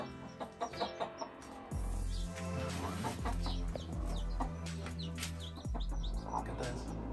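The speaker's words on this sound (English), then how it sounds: "we have some chicken." Chickens cluck and chatter on a farm with chicks nearby, a steady stream of close, busy fowl calls with a low rumble underneath and a voice speaking briefly.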